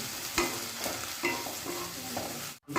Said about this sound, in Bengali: মশলার কাঁচা গন্ধ চলে যাওয়া পর্যন্ত লো টু মিডিয়াম ফ্লেমে ভালো করে মশলাটাকে কষিয়ে নিচ্ছি